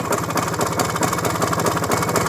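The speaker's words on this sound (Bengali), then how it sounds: "একদম স্পোর্ট সাউন্ড ইঞ্জিনের সাউন্ডটা শুনুন" A Japanese H100a CDI motorcycle engine runs at a steady idle close by, a continuous low, even chugging throb with no voices over it.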